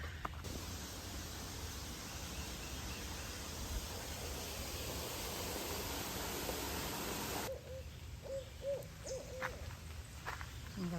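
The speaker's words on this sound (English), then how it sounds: "Can you guys hear that? I think that's owls." Steady broadband hiss fills most of the clip, then after it drops away a series of soft owl hoots repeats in the distance over quiet background.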